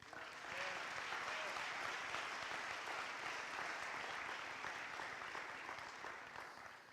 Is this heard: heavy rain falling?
no